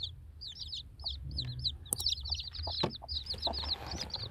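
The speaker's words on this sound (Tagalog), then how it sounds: "Gaganda ng mga chicks niya, pero ang liliit." Newly hatched baby chicks peep in rapid, high-pitched chirps, many overlapping in quick bursts, close by and fairly faint, with light rustling beneath.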